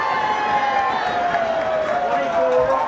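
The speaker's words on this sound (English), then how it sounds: "And the Lancer crowd now booing the Padres." High school football crowd in the stands booing the visiting team, a loud, sustained wash of massed voices with an announcer talking over it.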